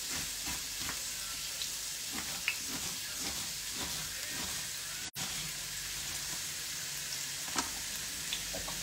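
Ingredients for a mussel and red mullet risotto wilt in hot oil in a pan, giving a loud, continuous sizzle and crackle that breaks off for a moment partway through.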